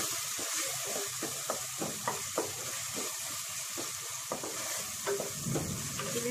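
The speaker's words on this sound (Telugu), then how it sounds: "ఫ్రై అయిపోయాయండి ఆనియన్స్ అండ్ టమాటా." Onions and tomatoes fry in ghee for a mutton curry, a continuous close sizzle with repeated rhythmic stirring strokes of a spoon through the pan.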